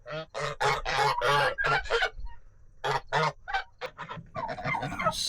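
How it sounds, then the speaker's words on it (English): A flock of turkeys gobbling, loud and close, with a fast series of harsh rattling calls followed by more scattered gobbles overlapping one another, heard alone without talk. "I think we got more gobblers than what we wanted."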